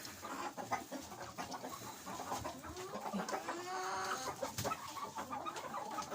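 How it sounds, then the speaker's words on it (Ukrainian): Chickens cluck and call in a farmyard on a warm day, a steady mix of overlapping hen clucks and squawks at close to moderate distance, with no talking. "Полетіла курочка."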